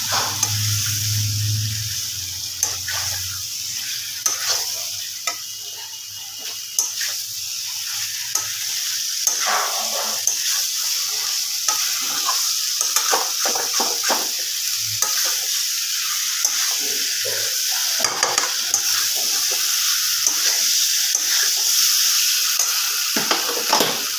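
Jackfruit and potato chunks being stirred into sizzling spice paste in a pan, with steady scraping of the spatula over a continuous frying hiss, close and alone.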